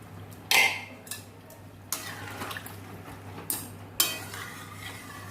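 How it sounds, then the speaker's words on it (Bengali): Hot water poured into a pan of fried-down chicken curry, with a few short splashing, hissing bursts and light clattering in between, close and moderately loud. "এবার আমি গরম জলটা ঢেলে দেবো কষা হয়ে গেছে গরম জলটা দিয়ে দিচ্ছি"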